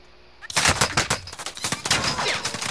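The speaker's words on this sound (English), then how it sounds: "I'm taking fire!" Rapid automatic gunfire from Call of Duty Modern Warfare Warzone erupts after a brief quiet moment, firing in loud, close bursts of sharp cracks with short gaps between them.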